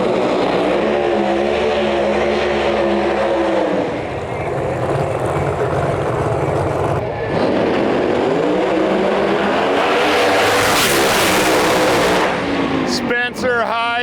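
Camaro drag race car with a 380-class engine running down the strip at an outlaw drag racing event, a loud roaring engine sweeping up and passing, with an announcer talking over it throughout.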